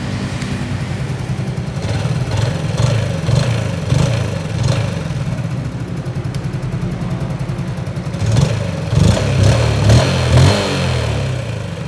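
A red Yamaha Spark 135i motorcycle with about 10,900 km on it runs with its exhaust plugged, giving a close, steady engine drone that swells in two throttle surges, early and again near the end.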